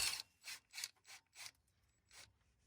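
A 13mm deep socket ratchet works on an exhaust clamp, giving a few short, faint rasping clicks in quick bursts with pauses between, heard alone.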